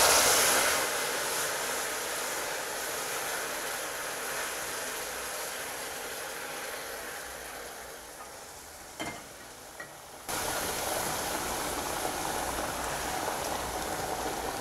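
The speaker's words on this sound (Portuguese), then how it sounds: "vou colocar a água, tomando cuidado para não me queimar, porque o que queima é o vapor" Water added to hot melted sugar caramel in a pan over low heat, giving a loud, steady bubbling sizzle that fades slightly, breaks off briefly, then returns with full strength; no talking.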